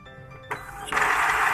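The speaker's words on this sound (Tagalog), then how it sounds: "i-on natin yung printer natin" An Epson printer powers on and starts running with a brief mechanical whir that swells into a louder, steady hiss of motor noise.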